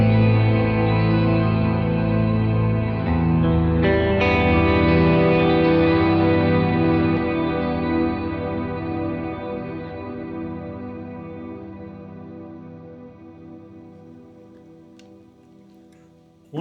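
A huge worship guitar pedalboard with a DD500 delay and heavy reverb rings out in a long, dense, shimmering wash that slowly fades over many seconds, loud at first and thinning gradually, with a faint click at the very end.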